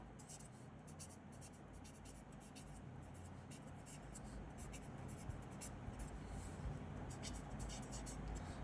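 Pen scratching out an answer during a maths lesson on HCF and LCM, a steady run of faint, close scribbling strokes with no talk over it.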